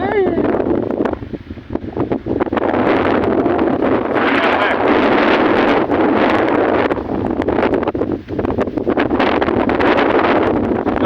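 Strong wind buffets the microphone in loud, continuous gusts, with a voice talking faintly beneath the roar.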